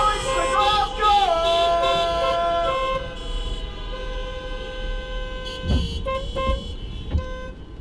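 Car horns honk on a Glasgow street, heard from an electric Renault ZOE: sustained, overlapping horn tones that blare loudly at first and then carry on more steadily, with a few sharp knocks toward the end.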